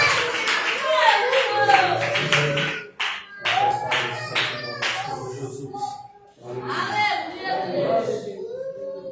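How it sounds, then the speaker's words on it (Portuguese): A church congregation claps in an irregular, sustained burst of applause, mixed with voices talking over it. "Uma salva de palmas para Jesus."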